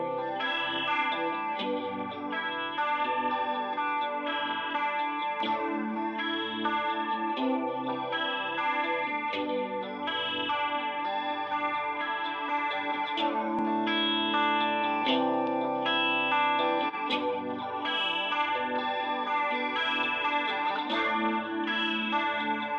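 Music processed through a Waves modulation plugin, with an LFO rhythmically sweeping its tone in regular pulsing waves, plays continuously with a chorus-like shimmer and no talk over it.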